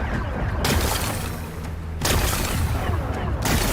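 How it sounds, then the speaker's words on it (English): Rocks blast apart in Horizon Forbidden West as two loud, close explosions crack out, each followed by a rumbling, crumbling tail. "It's exploding"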